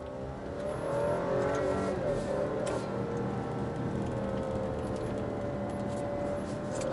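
An Alfa Romeo Stelvio Ti Sport engine hums steadily while the SUV rolls over a torn-up local road, with a constant low rumble and road noise and no talking.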